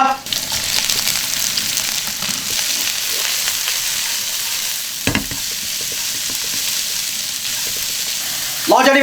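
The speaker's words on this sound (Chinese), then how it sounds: "下尖椒" Hot green chili peppers stir-fry in an oiled wok, giving a continuous loud sizzle broken by scraping, clattering stir strokes, with one sharp knock midway and a splash of water at the close.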